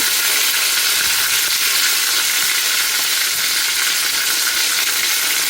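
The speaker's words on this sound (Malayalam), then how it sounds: "കടുക് ഇട്ടിട്ടുണ്ട്, കറിവേപ്പില, കുറച്ച് വെളിച്ചെണ്ണ" Mustard seeds and curry leaves sizzle in hot coconut oil, an even, dense crackling hiss held steady and close throughout.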